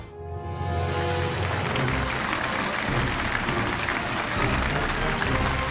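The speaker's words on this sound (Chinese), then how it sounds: "掌声有请第一位藏友登场" Sustained audience applause greets the first collector walking on at a Chinese antique-appraisal TV show, a dense steady roar of many hands clapping that starts after a brief moment and stays loud throughout.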